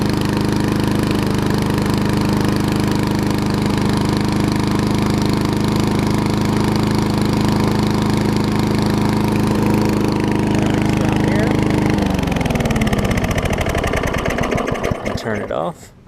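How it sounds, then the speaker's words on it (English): Older Murray lawn mower with a Tecumseh engine running steadily and loudly up close, its drone winding down near the end as it shuts off. "And so another mower of the bunch running."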